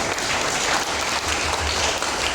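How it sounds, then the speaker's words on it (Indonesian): Dense, steady applause from a church congregation at a Christmas Day service fills the whole stretch, loud and close with no voices over it. "Kiranya Bapak Ibu bisa tepuk tangan dulu."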